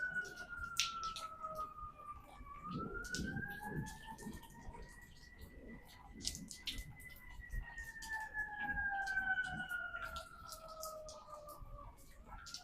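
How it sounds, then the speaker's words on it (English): An emergency vehicle siren wails outdoors during a power outage, rising and falling slowly and faint in the distance, with scattered clicks and light background noise. "There's a siren going off."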